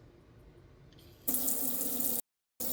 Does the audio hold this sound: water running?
yes